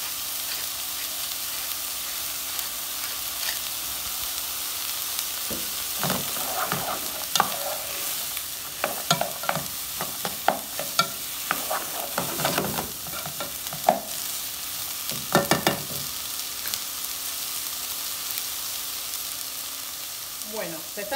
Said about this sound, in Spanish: se están sarteneando la cebolla con los pimientos, la zanahoria